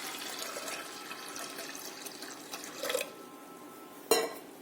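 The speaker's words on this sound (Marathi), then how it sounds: "आता यामध्ये आपल्याला पाणी घालायचे आहे" Water poured over chana dal in a pressure cooker, heard as a soft, steady splashing and trickling with a few clinks of the vessel, fairly quiet and without talk.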